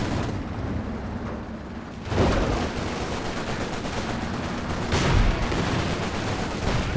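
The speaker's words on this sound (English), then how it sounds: "Panthers with the heat shells going to work there, but can't quite finish the job" Panther tanks firing HEAT shells in Company of Heroes 2 amid battle noise: two heavy booming blasts about three seconds apart over a constant rumble of distant gunfire and explosions.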